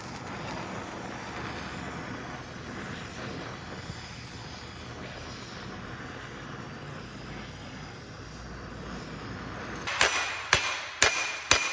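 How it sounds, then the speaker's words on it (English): Three or four sharp metal hammer blows ring out near the end, striking a rear wheel bearing on a 2010-2016 Cadillac SRX FWD, after a long stretch of steady broadband noise. "I'll smash with a hammer"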